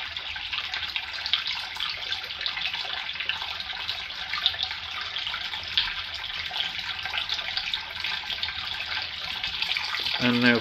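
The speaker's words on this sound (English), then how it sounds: "trying to run some hot water" Hot water runs steadily from a tap into a sink, a continuous close hiss and splash that holds level throughout with no talking.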